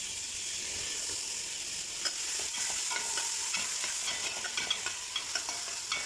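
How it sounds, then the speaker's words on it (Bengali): Onions poured into hot oil fry in a pan for a hilsa fish curry, giving a steady, close hissing sizzle with light scraping and stirring clicks near the end, and no voices. "তেল ঢেলে দেওয়ার পরে এখন আমরা ঢেলে দেবো পেঁয়াজ।"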